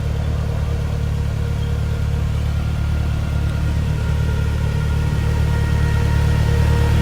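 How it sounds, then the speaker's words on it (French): Car engine idling loudly and steadily up close, a dense continuous low rumble with constant hum and no change in pace, no voices over it. "Le moteur fait pas mal de bruit comme vous l'entendez."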